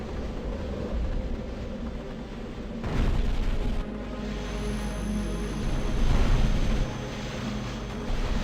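Plasma bombardment explosions in the sci-fi war game Starship Troopers: Terran Ascendancy, a dense, continuous roar of deep rumbling blasts with louder swells every few seconds and no pause.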